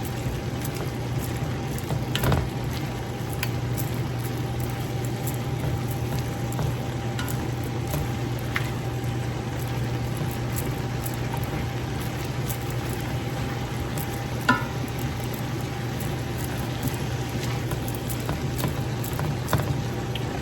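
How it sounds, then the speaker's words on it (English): Cabbage pieces cook in butter in a stovetop pan for a Southern braised cabbage, giving a soft continuous bubbling and crackle with a low steady hum beneath and occasional small clicks. "All those good pieces tossed in that butter."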